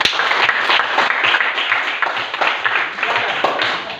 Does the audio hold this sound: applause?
yes